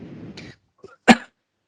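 A single short cough rings out clearly after brief talk and a quiet pause, during an interview with a university vice chancellor.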